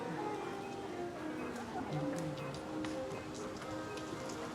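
Steady rain falls outside, a dense continuous patter of drops on surfaces heard as an even background hiss with faint scattered ticks, quiet and unbroken across the whole stretch.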